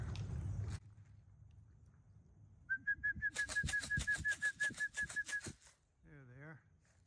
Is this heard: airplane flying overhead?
no